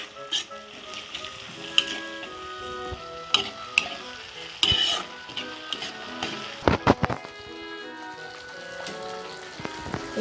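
Ginger garlic paste frying with onions for a village-style chicken jhol, a crackling sizzle with frequent spoon scrapes and clatters against the pan, close up with no talk.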